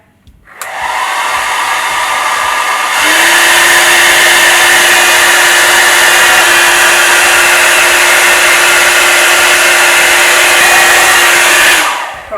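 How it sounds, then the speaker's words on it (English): A hair dryer roars steadily and loudly close by, starting at a lower speed and then stepping up to its highest blow setting. The high whooshing whine holds for several seconds before the dryer cuts off, with no speech. "I'm gonna get a hairdryer and just give it a blow and see how they last."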